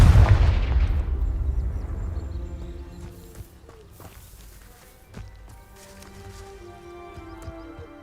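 Confringo spell cast in the video game Hogwarts Legacy, a loud explosive burst at the start that fades into a rumbling decay, followed by scattered impacts and footsteps.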